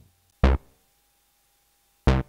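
Two short synthesizer notes, each cut off abruptly, sound about one and a half seconds apart against near silence.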